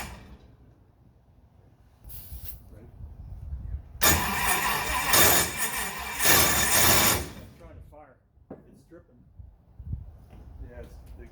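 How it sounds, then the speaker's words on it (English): An airboat engine's electric starter cranks in a loud burst lasting a few seconds, then falls away, with people talking before and after it. "That noise is a starter."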